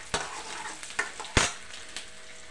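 Chopped garlic cloves dropped into hot oil, sizzling quietly in a pan: a faint, close frying hiss broken by a few sharp scrapes and knocks of a spoon.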